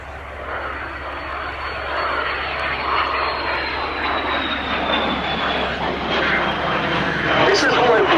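A de Havilland Vampire T-11 jet trainer flies at the Duxford summer airshow, with a steady distant jet roar and a slowly falling whine under continuous commentary from a speaker.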